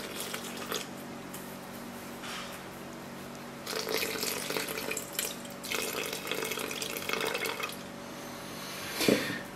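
Water runs steadily for several seconds as about 250 grams is poured onto rye flour for a sourdough starter, a continuous splashing rush with no voices.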